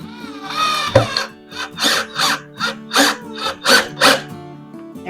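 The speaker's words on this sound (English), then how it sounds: "Using my battery powered screwdriver again to put these in here." A battery-powered screwdriver drives screws into a cedar raised bed for a patio garden, giving a series of short, regular whirring bursts with a whiny motor tone, close and fairly loud.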